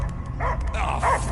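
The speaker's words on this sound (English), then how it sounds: "I hear only barking." Several dogs bark and yip in short bursts in a sci-fi video game scene, fairly close and loud over a low rumbling ambient backdrop.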